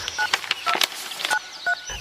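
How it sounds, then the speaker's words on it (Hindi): A telephone number is dialed, a quick series of about eight distinct touch-tone beeps in an irregular rhythm, close and clear, with no voices. "मैंने तुरंत वो कागज ढूंढा और उस नंबर पर कॉल किया।"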